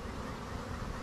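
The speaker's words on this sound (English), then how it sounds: "you can see how many bees are hanging around on the outside right now" Honey bees buzzing around the outside of a hive in spring, a dense, steady, close swarm drone that stays even in loudness with no voices.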